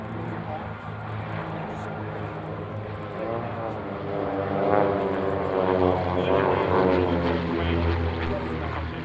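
Belgian Air Force propeller trainer aircraft in a flying display at an airshow, engine drone steady then swelling louder as it passes nearer, with radio voices talking over it.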